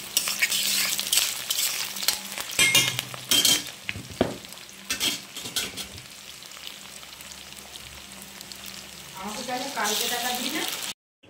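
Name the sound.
onion, cumin and dried chili frying in a pan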